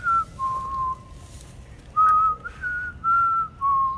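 Someone whistles a wavering tune in several sustained notes inside an abandoned school, with brief pauses between phrases and no talking.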